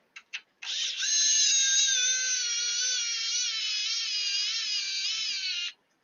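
A high, whining power tool drives an M3 screw into plastic in one long, steady run of about five seconds, preceded by two short blips, loud and close with no talking.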